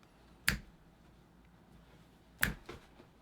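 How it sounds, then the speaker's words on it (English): Two crisp, close finger snaps separated by about two seconds, each a sharp isolated crack against a quiet room. "You should snap your fingers"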